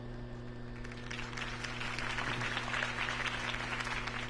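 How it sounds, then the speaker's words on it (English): Steady applause from a large crowd in the Telltale Batman video game, many hands clapping densely over a constant low electronic hum. "could have heard that applause"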